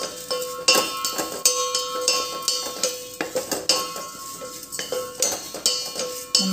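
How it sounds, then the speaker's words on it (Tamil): Flattened rice (aval) roasting in ghee in a pan for payasam, with a steady run of close metallic spoon scrapes and clinks against the pan in an irregular stirring rhythm. "ஆட் பண்ணி லைட்டாக அந்த நெய்யோடு நம்ம வறுத்துக்கலாம்."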